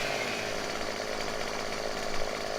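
Chainsaw cutting a tree in the Farming Simulator 17 game, a continuous loud buzzing engine drone with no pauses.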